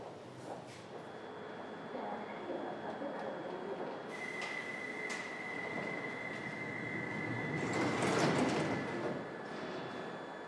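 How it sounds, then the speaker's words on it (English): A London Underground Victoria line train sets off from a station, with rumbling rail noise, a sustained high whine and squealing wheels that grow louder partway through before settling back. "Having closed the doors, operator Darren Parr presses the two start buttons"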